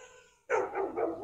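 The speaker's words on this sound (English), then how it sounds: "there's some damn dog barking" A dog barks a few times in quick succession, fairly faint, after a brief quiet moment.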